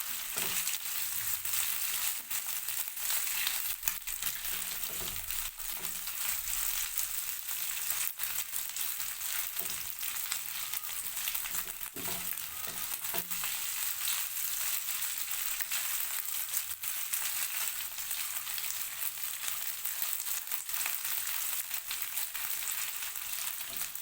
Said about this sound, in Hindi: सबसे पहले हम गोश्त को थोड़ा सा फ्राई करेंगे